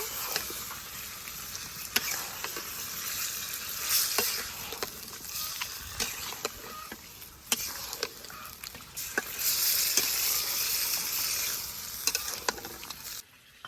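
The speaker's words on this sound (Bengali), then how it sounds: "মশলার মাঝে মাংসটাকে খুব ভালোভাবে কষিয়ে নিব" Chicken meat frying and being stirred in spices in a pan in a village kitchen, a steady close sizzle with frequent scraping stirs and clicks throughout.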